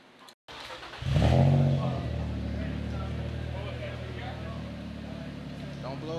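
Infiniti G35 with a VQ engine on a dyno, the engine catching and surging into a loud rev, then holding a steady high drone close by, with a voice briefly audible.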